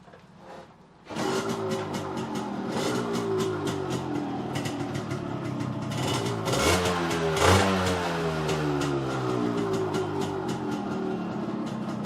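A Yamaha RX100 motorcycle engine kicks into life after a brief quiet moment, then runs loud and close, revving up and down with a buzzy, rapid two-stroke rattle.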